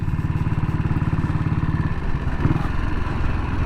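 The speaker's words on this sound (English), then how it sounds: "it's got a lovely deep single cylinder bob bob bob bob bob" A 1959 BSA single-cylinder motorcycle engine runs with a deep, steady thumping pulse of rapid, even beats. It is loud and close, with a light mechanical clatter on top and no speech.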